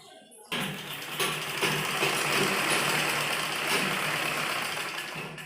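A sewing machine runs steadily, stitching a folded seam on a kurti side slit. It starts abruptly after a short quiet moment, then holds a continuous, fairly loud mechanical whir close by for the rest of the clip.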